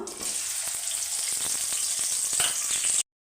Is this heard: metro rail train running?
no